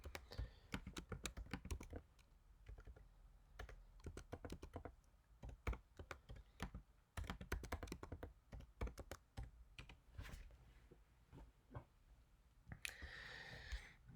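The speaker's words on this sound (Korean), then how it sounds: "교재 460페이지에 있는 코드를 다 같이 타이핑하겠습니다." Rapid keyboard typing clacks away close up in uneven bursts of keystrokes with brief pauses, a louder flurry near the end.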